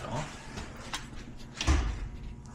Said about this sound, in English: So what you're hearing is a contactor clicking.